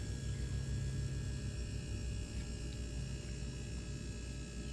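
An installed conventional compressor on an LG refrigerator running while pumping R134a refrigerant. It gives a steady low hum with a faint high whine, even and unbroken throughout.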